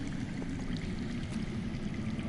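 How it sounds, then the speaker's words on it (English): Steady rushing flow of underground water in a video game, a continuous broadband wash with a low rumble, even and unbroken throughout with no voices. "I hear water. From underground."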